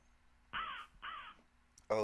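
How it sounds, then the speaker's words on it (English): A crow gives two clear, harsh caws in quick succession, close and fairly loud against a quiet background, followed by the start of a voice at the end. "oh, it's a crow"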